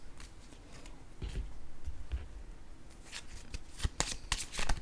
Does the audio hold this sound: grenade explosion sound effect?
no